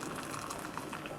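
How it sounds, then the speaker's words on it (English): Hot water is poured into a cup in a steady, close splashing trickle that runs unbroken through the whole short span. "I just heated up some water here, and I'm going to just pour it in my cup."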